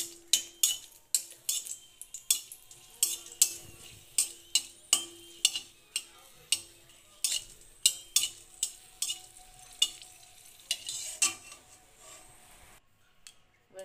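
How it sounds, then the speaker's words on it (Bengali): Two dried red chillies fry in a little hot oil, a steady sizzle under repeated sharp metallic clinks of a utensil scraping and stirring the pan, close and fairly loud, with no voices. "এর মধ্যে আমরা 2টো শুকনো লঙ্কা দিয়ে আগে ভেজে তুলে নেব।"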